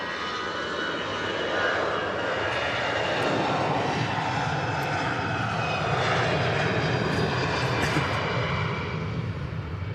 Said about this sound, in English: This EasyJet's off to Nice.